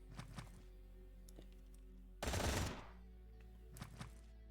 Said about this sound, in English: You can see our turret is doing its work.